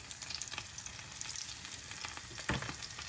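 Steady, close sizzling of battered cauliflower frying in a pan, with small pops and crackles and a brief louder spatter near the end.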